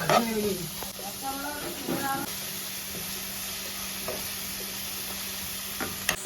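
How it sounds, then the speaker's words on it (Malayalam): Onion, garlic, ginger paste and green chili fry in a pan for a clam meat roast while being stirred. A steady, close sizzle runs throughout, with occasional scraping taps from the stirring spoon. "സവാളയും വെളുത്തുള്ളിയും ഇഞ്ചി പേസ്റ്റും പിന്നെ പച്ചമുളകൊക്കെ ഇട്ട് നമ്മൾ മിക്സ് ആയിക്കൊണ്ടിരിക്കുകയാണ്"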